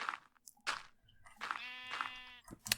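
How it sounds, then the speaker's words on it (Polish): Sheep bleating in Minecraft, several wavering calls in a row, close and clear over a quiet background. "Cicho owca."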